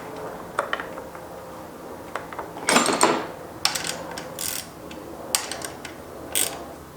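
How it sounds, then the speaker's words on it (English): A ratchet tightens a 13mm nut on a car engine, giving irregular bursts of quick metallic clicking with short pauses between strokes, close and clear with no voices. "placing that 13mm nut right back on there, and I'm going to go ahead and tighten that down now"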